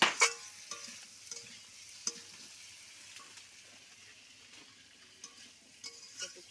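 Mango pieces and potatoes being sautéed in a pan for a fish curry, a quiet sizzle with occasional scraping stir clicks and utensil taps, fairly soft and close, with no talk.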